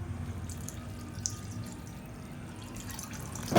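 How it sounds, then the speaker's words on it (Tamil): Water is poured into a pan of frying brinjal gravy, a soft trickle with faint drips that swells into a louder splash at the end, with no talking. "இப்போ நல்லா வதக்கிட்டு தண்ணி சேர்த்துக்கலாம்."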